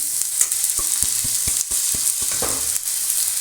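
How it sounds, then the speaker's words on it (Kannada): Horse gram is tipped into a pan of frying onion and grated coconut, giving a steady close sizzle broken by a run of sharp spoon taps and scrapes against the pan, with no voices. "ಇವಾಗ ಕಾಳು ಹಾಕ್ಕೊಂಡ್ಬಿಡೋಣ."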